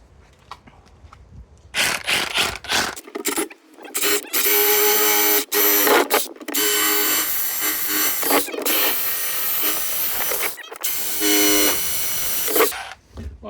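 A power drill bores holes through the bottom of a plant pot during repotting of an olive tree, whining loudly in several long bursts with short pauses between, close by.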